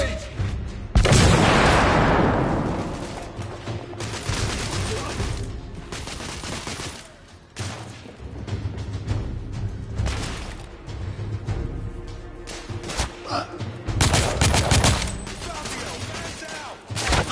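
Grenade blast and bursts of gunfire from The Order: 1886 video game, a loud explosion near the start followed by repeated volleys of shots and booms, with voices shouting over the combat.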